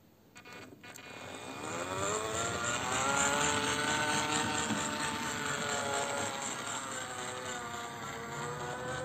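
A 3D-printed radio-controlled industrial locotractor runs with a close, steady electric motor and gear whine that builds over the first seconds, then holds a continuous whirring drone with slowly shifting pitch, no voices.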